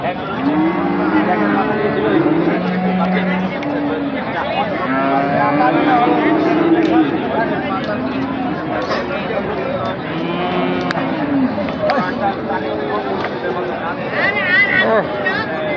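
A bull being sold for Qurbani at Ambari cattle market lows repeatedly, long deep moos near and loud, while people talk and a crowd murmurs throughout.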